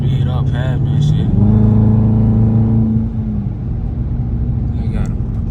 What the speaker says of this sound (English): this goddamn Nissan Altima Hellcat just came in, trying to speed up past me